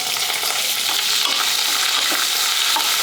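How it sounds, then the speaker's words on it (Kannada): Onions, green chillies and curry leaves frying in hot oil, a dense continuous sizzle with scattered crackles and occasional stirring scrapes, close and loud. "ಈ ಉಳ್ಳಾಗಡ್ಡಿ, ಹಸಿಮೆಣಸಿಕಾಯಿ ಎಲ್ಲ ಚಲೋ ಹೊತ್ತಿನಾಗೆ ಫ್ರೈ ಆಗಬೇಕು"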